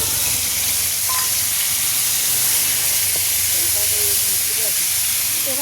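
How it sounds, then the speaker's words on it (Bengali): Ginger, cumin and black pepper sizzle in very hot cooking oil over a high flame, giving a steady, loud frying hiss that fills the whole stretch. "তেল প্রচুর গরম হয়ে গেছে বন্ধুরা, আঁচ পুরো লাল টুকটুকে হয়ে গেছে"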